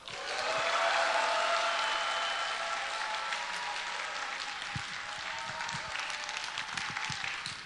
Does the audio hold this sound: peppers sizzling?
no